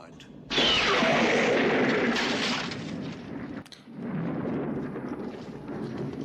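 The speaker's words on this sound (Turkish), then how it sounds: "Yıldırım çarptı." A thunder and lightning strike from the 1981 film Excalibur cracks in suddenly and rumbles on loudly, with a second burst of noise that rolls on to the end.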